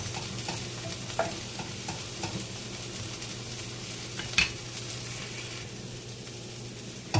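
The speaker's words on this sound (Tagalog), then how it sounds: "So, paghahaluin na natin yung sibuyas sa garlic, onion." Garlic and onion stirred as they fry in a pan, a steady close sizzle with a few spatula scrapes and knocks against the pan and one sharper clatter near the end.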